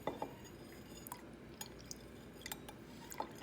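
Salt solution is poured into liquid dish soap as it is stirred, giving faint close drips, small splashes and light glassy clinks scattered over a few seconds.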